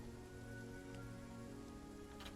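Steady rain pours down over a city street, a dense, continuous hiss of drops on hard surfaces with a low background hum, no voices, holding an even level throughout with a few brighter splashes near the end.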